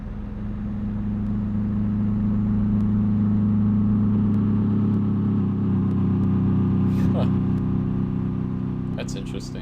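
A heavy truck engine in Euro Truck Simulator 2, droning loud and steady with a deep low hum that swells as it picks up speed, with a few faint clicks near the end.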